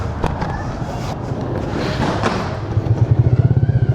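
A motorcycle pops and backfires in loud bursts, the sharp cracks giving way to a rapid, throbbing engine putter near the end, close by and with no talk over it.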